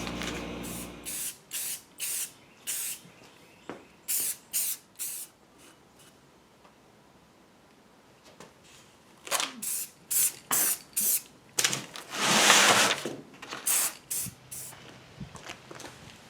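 Metallic oil rubbed bronze satin spray paint hisses from an aerosol can onto a restored Canedy-Otto Camelback drill press, in repeated short bursts close by with quiet gaps between passes.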